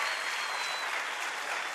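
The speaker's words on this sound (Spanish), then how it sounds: "Un fuerte aplauso para los que somos de barrio y de comuna" A studio audience on the Colombian comedy show Sábados Felices claps for a comedian in a brief, steady burst of dense applause at moderate volume.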